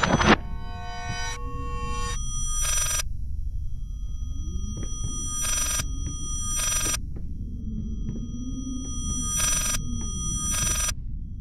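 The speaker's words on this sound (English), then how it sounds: "Got a telephone for you." Telephone ringing in a video game, a series of bright electronic ring bursts repeating at irregular intervals over a low rumbling ambient drone, fairly loud and close, with no talking.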